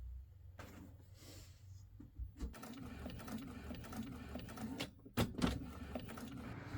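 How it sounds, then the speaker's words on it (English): A sublimation printer runs through a print job, giving a steady mechanical whir with rhythmic clicks and a few sharper clunks near the end, close by with no talking. "And then I'm going to go ahead and print."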